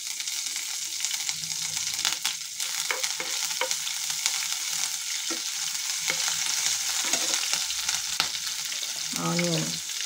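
Whole spices, bay leaf and chilli fry in a pan for biryani, giving a steady soft sizzle with occasional stirring scrapes and small pops, close and continuous throughout.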